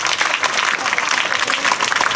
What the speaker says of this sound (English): So let us give a big round of applause to all our students and welcome.